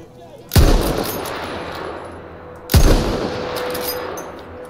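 Two loud rifle shots about two seconds apart in Battlefield 1, each a sharp crack followed by a booming echoing tail over low ambient battle noise.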